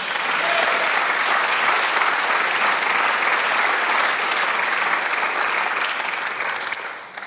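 A church congregation applauds with dense, steady clapping that stays loud and even before tapering off at the end, with no voices over it.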